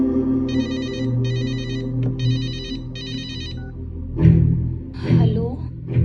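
A phone plays a repeating ringback tone on an outgoing call, a few evenly spaced bursts over background murmur, followed by people talking.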